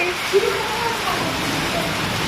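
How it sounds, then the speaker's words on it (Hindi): Hailstones pelt down in a dense, steady patter with a rain-like hiss throughout and a single brief louder knock near the start. "ओ भाई ओले गिर रहा है"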